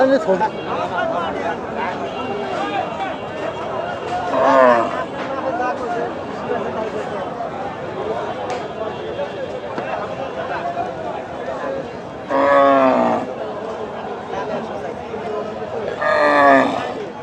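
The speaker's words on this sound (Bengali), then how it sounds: "এটি হচ্ছে একটি মাংসের গরু" Several drawn-out cattle moos rise over a busy crowd at a livestock market, with people talking throughout and the lowing coming three times from nearby.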